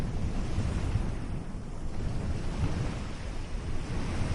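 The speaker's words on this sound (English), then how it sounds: "The only sound now is the sea." Sea waves wash onto an Antigua beach at night in a steady, unbroken roar of surf, mixed with low wind rumble and no voices.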